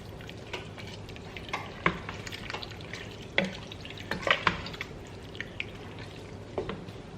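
Spices being stirred into a hot cooking pan, a soft steady sizzle with scattered scraping and tapping of the spoon against the pan, fairly quiet and with no voices.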